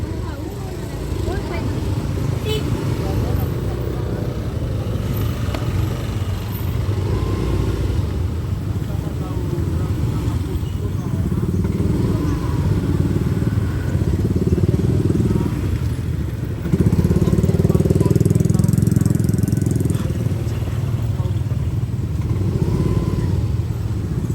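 Motorcycles crawl through a jammed road crowded with mourners, making a continuous low engine rumble and drone nearby. The noise swells as machines pass close, and someone talks over it.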